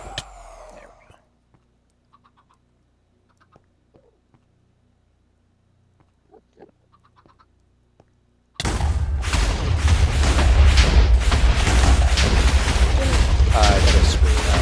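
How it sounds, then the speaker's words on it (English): A loud explosion in the Minecraft video game, set off near hostile mobs and the Wither, bursts in after a stretch of near silence and faint game sounds, then roars and rumbles steadily to the end. "They were supposed to die from that explosion."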